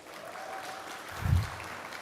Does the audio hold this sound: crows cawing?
no